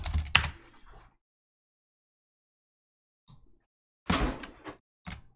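A few short bursts of computer keyboard key presses, close-up, separated by a long stretch of near silence.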